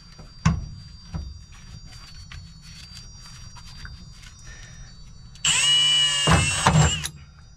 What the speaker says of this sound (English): we're gonna drill a larger hole here